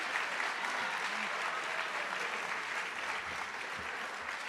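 Audience applause for an 8th grade class at a middle school promotion ceremony, a steady, dense wash of many hands clapping at moderate distance, sustained throughout without break.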